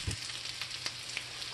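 Steak and chorizo browning in a cast iron pan, a steady soft sizzle with faint crackles and pops, quiet and close with no talking.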